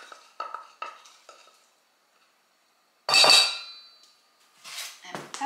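A spinach, garlic and cheese mixture is stirred in a bowl, with a few short clinks and scrapes, then a loud, close scraping swirl after a pause and more stirring near the end.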